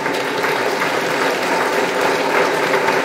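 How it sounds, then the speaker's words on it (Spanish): A large audience stands and applauds the government of the Republic, a dense, steady roar of clapping filling the whole stretch at close range with no break. "Pongámonos de pie y aplaudamos al gobierno de la República."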